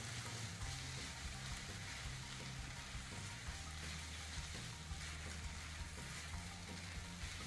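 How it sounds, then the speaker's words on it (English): Yaki udon stir-frying in a pan with soy-based sauce and dried bonito, a constant faint sizzle and soft hiss with occasional stirring movements, no voices. "Fry while stirring well."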